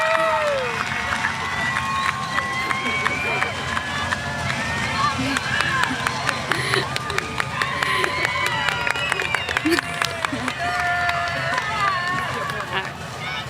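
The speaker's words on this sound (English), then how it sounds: "Let's give a big round of applause for our class of 2021 graduates." Crowd at a high school graduation ceremony cheers, whoops and claps for the graduating class of 2021, with scattered shouts and voices mixed into sustained applause.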